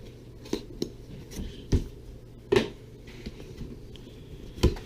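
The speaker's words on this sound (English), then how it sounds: "So we'll cut the seal." A blade cuts the seal on an FPV Crate subscription box, making a few sharp, close snips and crinkles of plastic in separate bursts.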